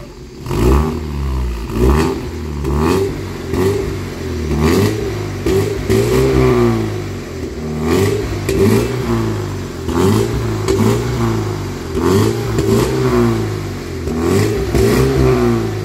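An Alfa Romeo 75 2.0 Twin Spark engine with a new exhaust revs repeatedly, rising and falling in throaty bursts with crackles from the exhaust between pulls, loud and close.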